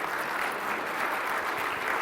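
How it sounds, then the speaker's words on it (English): An audience applauds steadily, a dense, moderately loud patter of clapping hands from a room of people, lasting the whole short moment. "can we clap for Pam"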